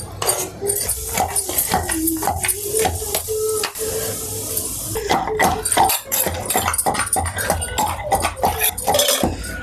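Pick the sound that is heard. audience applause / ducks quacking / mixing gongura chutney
mixing gongura chutney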